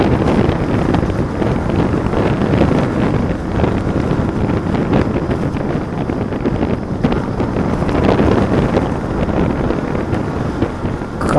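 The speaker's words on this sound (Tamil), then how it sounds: "காற்றடிக்குது." Strong wind roaring steadily into the microphone during a motorbike ride on an open road, loud and unbroken throughout, with no talking.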